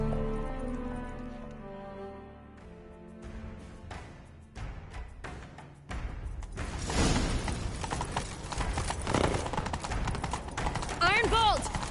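Horse hooves gallop in The Witcher 3 video game, a quick rhythmic clatter that takes over after a quieter musical opening and runs loud and close, with a brief voice near the end.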